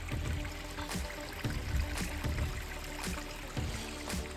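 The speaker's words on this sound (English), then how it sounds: "Not worried about the waterfalls." Water trickling and splashing over small backyard pond waterfalls, a soft continuous rushing with recurring gentle splashes, fairly quiet and close.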